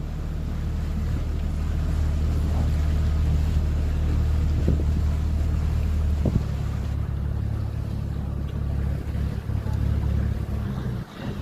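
A tour boat travels along a canal in Bruges, its engine giving a steady low drone with wind and water noise throughout, close and continuous with no talk.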